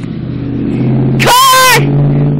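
A car sweeps past close by in a brief, loud rush of engine and tire noise lasting about half a second, over a steady low background hum.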